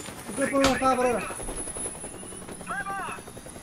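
A helicopter in the video game Days Gone hums steadily throughout at moderate loudness, with a voice talking over it.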